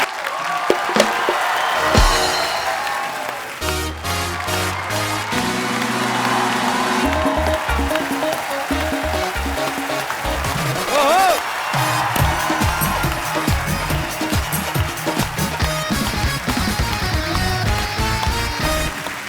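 A studio audience on a comedy talk show cheers and applauds as a guest walks on, a loud sustained wash of clapping and whoops over background music.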